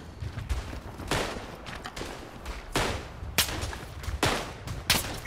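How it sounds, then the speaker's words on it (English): Gunfire in the Verdun video game: repeated loud sharp shots and bursts crack out at irregular intervals, some close and punchy, others overlapping in a steady battlefield fusillade with no talking. "Getting shot from the side over here."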